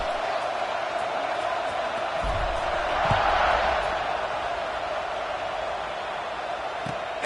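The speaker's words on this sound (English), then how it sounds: "this crowd is buzzing after that last score" Stadium crowd noise from the College Football 26 video game hums steadily with a broad roar that swells briefly partway through. Game commentary voices can be heard faintly over it.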